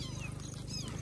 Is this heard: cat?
yes